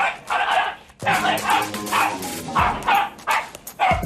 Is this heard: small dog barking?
yes